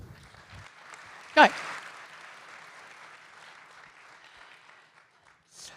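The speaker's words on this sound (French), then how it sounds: "Oui, vous pouvez l'applaudir." Conference audience at a 2018 innovative manufacturing strategy forum applauding, a soft, sustained spread of clapping after one sharp nearby clap, with a brief voice at the start.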